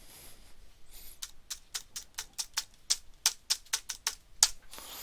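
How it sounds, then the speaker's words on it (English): Keys tapped on a keyboard to enter an IP address into a web browser, about fifteen crisp, close keystrokes in a steady run with no voices. "type in the IP address you just wrote down."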